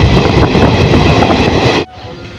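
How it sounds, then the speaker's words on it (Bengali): The 13117 Dhano Dhanya Express runs into Dum Dum Junction with a loud, close, roaring rumble and rattle of carriages. The roar cuts off abruptly to a much quieter background near the end. "আমাদের ট্রেন ঢুকছে এখন দমদম জংশন"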